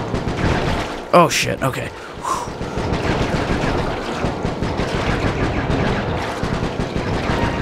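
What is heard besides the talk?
gunfire while shooting and driving in Sly 3 video game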